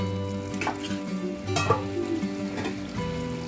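Chicken for chicken khichuri sautés in a pan with steady sizzling and frying, and a few scraping stirs in between. The cooking sounds are close, hold at an even level throughout and carry no talk.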